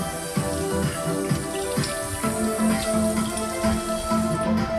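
Water runs from a Dyson tap, a steady close hiss with faint clinks and shifts in the flow, fairly quiet and without talk.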